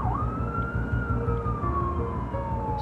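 An ambulance siren wails in one long, steady rising and falling tone over a low engine rumble, close and loud, during an emergency call-out to an injured child.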